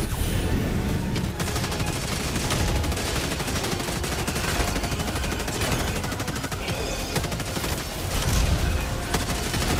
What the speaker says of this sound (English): those are the cannon